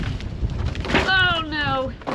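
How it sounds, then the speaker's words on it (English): Strong outdoor wind buffets the microphone with a low, rushing roar, while a voice rises briefly over it midway. "Oh my gosh, it's so windy."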